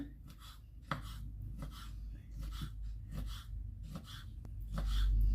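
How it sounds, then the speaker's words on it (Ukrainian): A knife slices through vegetables on a board for a vinaigrette salad, crisp evenly spaced chops repeating about every half second, close and clear, with a voice talking over them. "Ось тепер беремо їх і нарізаємо, як на звичайні огірочки, як огірочки нарізаємо"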